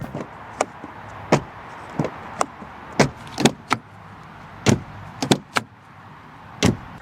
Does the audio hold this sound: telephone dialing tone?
no